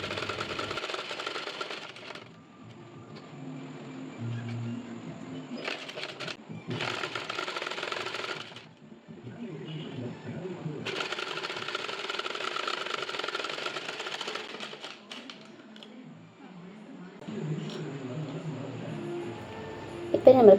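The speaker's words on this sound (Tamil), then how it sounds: "இப்போ இந்த மேல் தையல் வந்து இந்த டிசைனுக்கு போட்டு கொடுத்துக்கலாம்" A sewing machine top-stitches a design onto a silk saree blouse border, running in several bursts of a few seconds each with pauses between, fairly close and moderate in volume, with a voice talking at times.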